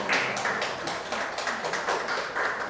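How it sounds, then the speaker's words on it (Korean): Applause from the audience at a social workers' awards ceremony, steady and fairly even clapping from many hands throughout, moderately loud and with no voices standing out. "큰 박수 부탁드립니다."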